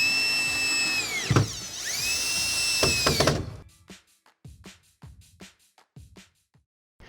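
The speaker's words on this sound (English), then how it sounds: "grab your screws and your drill, work your way around the opening" A power drill whirs loudly, its motor rising and falling as it drives screws into a shower base during installation, then gives way to a series of scattered knocks and taps.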